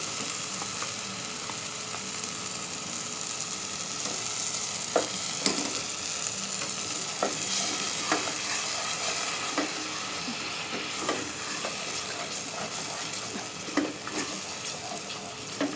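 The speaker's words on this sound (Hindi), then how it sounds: "इसे भी हम भूनेंगे जब तक इसकी गुठलियाँ ना ख़त्म हो जाएं, तब तक हमने इसे भूनना है।" Masala with half a cup of yogurt being fried in ghee for handi kabab, a continuous low sizzle with repeated spoon scrapes and stirring knocks against the pot, close and moderately quiet, no talk.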